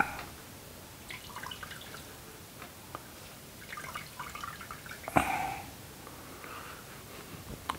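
Water drips and trickles from a cotton terry towel being wrung out by hand, faint and close, with scattered small splashes and one brief louder splash midway.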